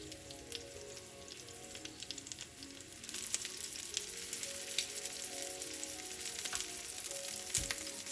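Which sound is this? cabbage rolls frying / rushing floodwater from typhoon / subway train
cabbage rolls frying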